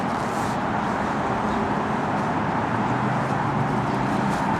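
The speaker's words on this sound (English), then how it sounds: "Apologies for the noise because right next to a busy road." A steady roar of road traffic, loud and continuous, with cars rushing past close by in an unbroken wash of noise.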